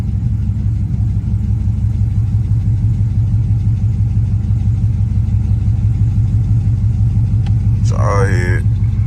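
A Dodge SRT8 with a 392 engine idles with a loud, uneven pulsing rumble, misfiring and shaking in a steady lumpy rhythm close by, with a short voice near the end.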